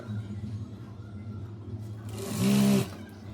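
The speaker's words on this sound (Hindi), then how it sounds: "सिलाई के ऊपर आप इलास्टिक को रखिए, इसको आप स्ट्रेच कीजिए और अंदर की तरफ कपड़े को जो एक्स्ट्रा उसको फोल्ड कर दीजिए और यहाँ पे सिलाई लगाते हुए चलिए।" A sewing machine stitches elastic onto a sharara, with a low steady hum and a brief, louder whirring run near the end, close by and with no voices.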